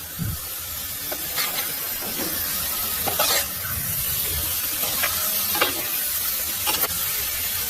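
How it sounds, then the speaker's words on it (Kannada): Chicken, a kilogram of it salted and mixed for green chilli chicken, frying in a pan, with a steady soft sizzle and occasional bursts of stirring scrapes, close and continuous with no talk. "ಐದು ನಿಮಿಷ ಇದನ್ನ ಹೀಗೇನೆ ಫ್ರೈ ಮಾಡ್ಕೊಳ್ಳಿ."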